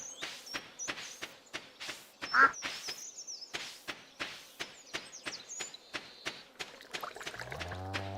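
Short quacks from a duck in the farming game Stardew Valley, set among a steady run of soft footstep clicks and faint chirpy game sounds, all at low volume.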